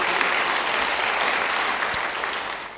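Sustained applause from a church congregation during a sermon, a steady, even roar of many hands clapping at moderate loudness throughout.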